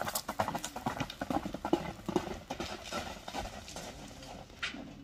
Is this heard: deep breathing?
no